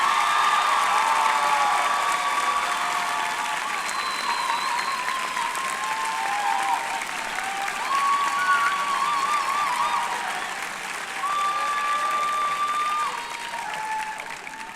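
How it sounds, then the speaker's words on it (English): Sustained applause from a large crowd honoring faculty at a university commencement ceremony, steady and loud throughout with occasional whoops, tapering slightly near the end. "join with me in applauding them for the fine education they provided for you"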